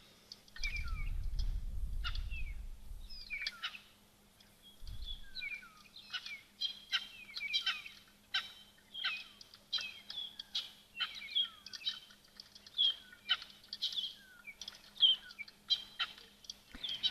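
Tawny eagles call at a waterhole with repeated high, sharp cries in irregular bursts throughout. A low rumble sits beneath the calls at the start, and the calls are fairly distant with quiet gaps between them.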